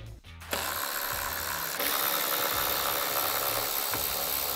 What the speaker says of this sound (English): Next, remove these two 10mm bolts holding on this plastic panel.